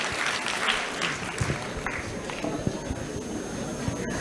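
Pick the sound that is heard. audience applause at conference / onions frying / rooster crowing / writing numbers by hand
audience applause at conference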